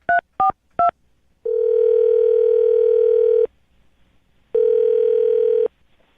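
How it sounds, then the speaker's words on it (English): Three quick keypad tones beep, then a steady telephone tone hums for two seconds, pauses, and sounds again like a ringback signal. "I'm going to dial his phone number right now"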